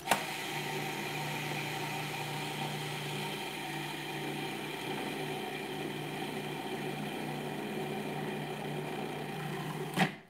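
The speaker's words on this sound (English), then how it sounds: "I want to grind it pretty fine." A food processor grinds a raw vegan not-tuna mixture, a steady whirring motor drone running nearly ten seconds at even loudness, starting and stopping abruptly, with no talking.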